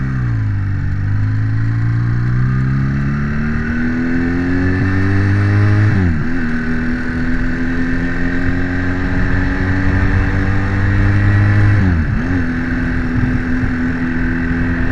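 A loud motorcycle engine, not yet warmed up, idles steadily with a throaty exhaust, its pitch rising gradually before two short blips of the throttle, recorded on an Eken H5S Plus camera's external microphone.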